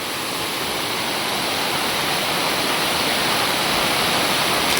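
A steady, powerful roar of the Paithalmala waterfall in Kannur, Kerala, fills the air without pause, loud and close, with no other sounds breaking through.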